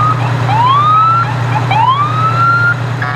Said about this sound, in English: the interstates connecting Bel Air to Baltimore served as a soundtrack of sirens